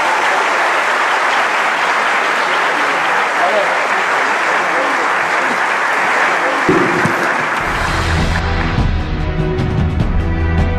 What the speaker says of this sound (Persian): به افتخار خودتون خواهش می‌کنم تشویق کنید.